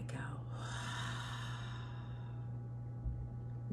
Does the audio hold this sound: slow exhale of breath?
yes